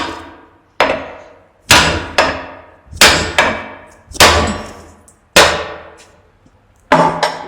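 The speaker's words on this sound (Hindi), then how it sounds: "इसमें थोड़ी बड़े हथौड़े से ठोकर मार देंगे ताकि ये अच्छी तरह से फिट हो जाए" A big hammer strikes a bearing into a Bosch angle grinder housing, ringing metallic blows landing about once a second, eight or nine in total, each loud and close with a short decaying ring.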